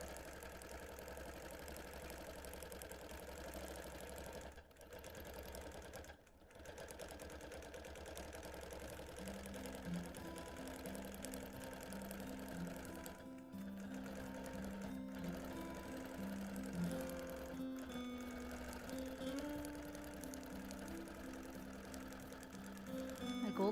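A longarm quilting machine stitches appliqué with gold thread, giving a faint, continuous mechanical hum and rapid steady needle chatter that runs throughout.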